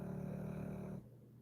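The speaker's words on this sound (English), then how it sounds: "He's a right good snore." A steady, low snore rumbles through a quiet room during a live painting session, droning evenly for about a second before dropping away into faint background hiss.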